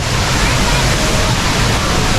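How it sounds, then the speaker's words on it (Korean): The indoor waterfall at Singapore Changi Airport, pouring from the ceiling, gives a loud, dense, continuous roar of falling water that fills the space evenly from start to end. "하늘에서 떨어지는 폭포 같은 거"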